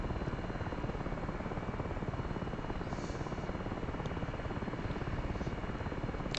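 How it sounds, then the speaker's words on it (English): A Little Bird helicopter in the DCS flight simulator flies with a steady, dense rotor and engine roar that stays constant and loud throughout, with no talking over it. "it's supposed to be one of the most agile and nimble helicopters out there."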